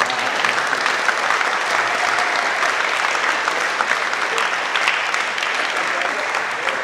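Steady applause from an audience at an evening alumni fast-breaking gathering, sustained dense clapping filling the hall at even loudness for the whole stretch.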